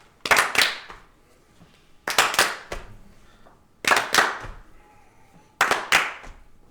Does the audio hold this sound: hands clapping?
yes